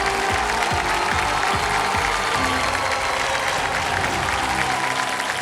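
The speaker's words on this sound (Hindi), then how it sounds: "आइए, big hand for Aamir Khan and Sunny" A studio audience at a Kaun Banega Crorepati game show applauds steadily and loudly, the clapping continuous and dense with a hint of crowd murmur under a musical backdrop throughout.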